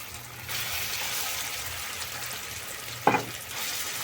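Oil is poured into freshly ground raw tomato chutney, raising a steady, close frying sizzle with a brief louder splash of hiss partway through.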